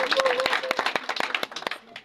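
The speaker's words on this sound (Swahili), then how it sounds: "Wacha tumpigie Bwana makofi tukikaa chini hivyo" A church congregation claps together in praise, a dense burst of many hands at close range that thins into scattered claps, with voices mixed in.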